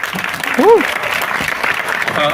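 Steady applause from a crowd at a film trailer launch event fills the space, a broad continuous patter with a brief rise near the middle, and voices mixed in underneath.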